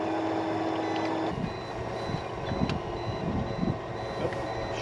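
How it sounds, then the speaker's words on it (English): Shallow water alarm on a fishing boat trolling at Los Vaqueros Reservoir, a steady electronic beeping tone sounding continuously for about a second over engine and water noise, then cutting off while the boat noise continues. "Oh, shallow water alarm."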